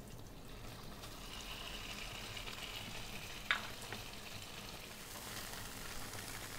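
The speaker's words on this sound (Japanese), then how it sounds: "水切りした豆腐は焼き付けるようにして炒めていきましょう。" Drained tofu sears in sesame oil in a frying pan for a Japanese-style green pepper champuru, giving a steady, close sizzle and hiss throughout with one brief utensil clack midway.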